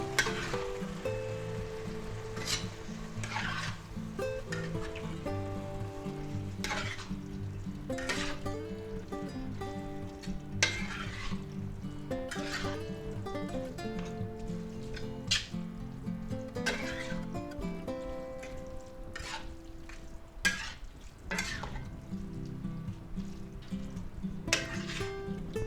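Pre-cooked spaghetti is tossed into a chicken and vegetable stir-fry in a pan, a low continuous sizzle under repeated scraping and clinking as the ingredients are stirred together.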